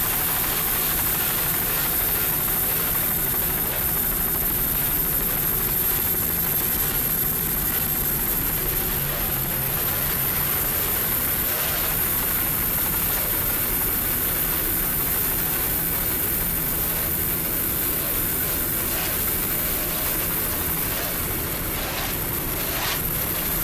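Three 2.5 EFI outboard engines power a 36-foot Cobra offshore racing powerboat in a 1997 Chicago offshore grand prix, producing a steady, loud, continuous drone with hiss that persists throughout without talking.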